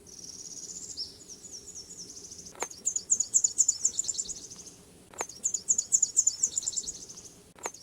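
A Nashville warbler sings along a woodland path by a pond in spring, two bright, high, rapid twittering phrases separated by a pause, with quiet rustling and faint insect background.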